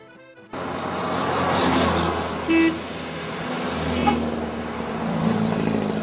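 Vintage cars gather at a classic car club outing in the countryside, with a loud, broad rumble of engines and a brief horn toot midway over open-air noise.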